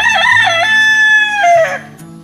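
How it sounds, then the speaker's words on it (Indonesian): A rooster crows loudly and close by, one long cock-a-doodle-doo that rises, wavers and falls off, with nothing else around it. "Pagi-pagi yang lain belum bangun, kita harus sudah bangun, berkokok gitu ya, panjang gitu ya"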